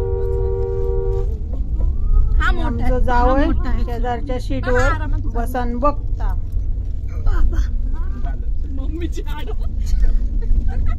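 A Mahindra Scorpio SUV's engine strains up a steep, narrow hillside village road, a low steady rumble throughout while people talk inside the vehicle.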